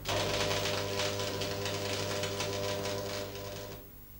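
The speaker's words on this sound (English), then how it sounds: "you can hold the pieces in place while you tack weld them." Electrode arc welding tack welds on a T-joint on a bench: a loud, steady crackling buzz with a humming undertone runs close-up for nearly four seconds, then cuts off abruptly.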